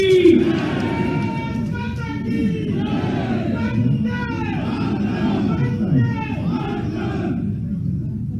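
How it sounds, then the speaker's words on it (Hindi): A large crowd at a public event welcoming a chief minister cheers and shouts in unison, with loud, continuous massed voices rising and falling throughout. "एक बार जोरदार ताली बजाकर उनका अभिनंदन करिए"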